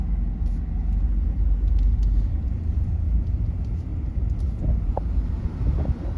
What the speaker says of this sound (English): Got a car behind us. We'll pull over and let him go.